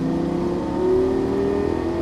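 A Lamborghini Gallardo LP-550 engine accelerating on a track, a loud continuous roar with a rising tone, heard close from inside the car.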